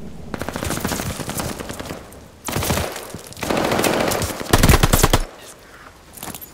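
Rapid machine gun bursts in a video game firefight, loud and close, with several sustained volleys of fire and a heavier burst near the end, the rattling shots layered over game ambience.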